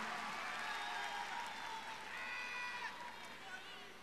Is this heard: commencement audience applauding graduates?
yes